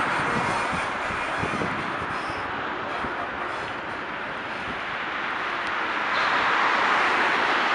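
A vintage MLW ALCO shunter locomotive runs nearby with a steady, broad diesel rumble and rolling rail noise that holds constant and swells slightly toward the end, with no talk.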